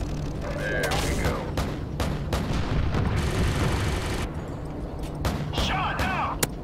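In Call of Duty MW3, an aircraft is shot down under rapid bursts of gunfire and heavy explosions that boom and crackle close together at high volume, and a radio voice speaks through the barrage.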